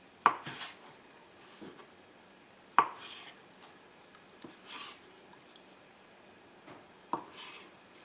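Biscuits being cut into quarters for a sausage gravy casserole, a few sharp knife taps against a board spaced seconds apart, close and fairly quiet, with faint soft handling sounds between them.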